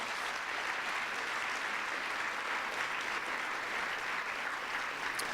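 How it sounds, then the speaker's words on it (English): An audience at a school gathering of high school sophomores claps steadily, a dense, sustained round of applause with no talk over it. "Let's give them all a big round of applause."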